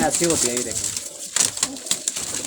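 Rampuri pigeon cooing softly in a small loft, low repeated coos mixed under someone speaking close by.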